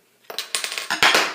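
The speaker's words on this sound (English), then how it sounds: "little hiss, little smoke" A homebrewed white stout bottle is opened up close. A quick run of small clicks and taps from the cap ends in a short, sharp hiss of escaping gas. No voices are heard.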